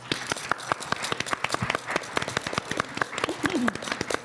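An audience claps at a Black Dress Talks event, dense, fast, irregular hand claps filling the room at moderate loudness with no talk.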